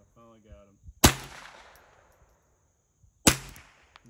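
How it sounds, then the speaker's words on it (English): Two sharp gunshots about two seconds apart at an outdoor shooting range, each a loud crack with a ringing decay; low pressure rounds, with a brief voice-like murmur before the first shot. "Some of those rounds sound like the low pressure rounds."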